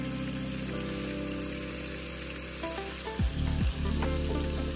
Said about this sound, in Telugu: అవి కొంచెం కలబెట్టుకొని కొంచెం ఫ్రై కానివ్వాలి